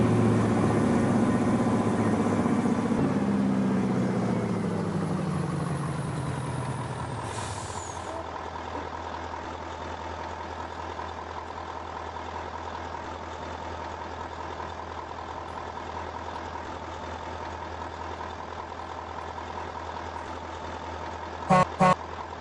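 A truck in a video game gives a loud deep engine rumble that winds down and settles into a steady idle, followed by a brief hiss and a couple of short beeps near the end.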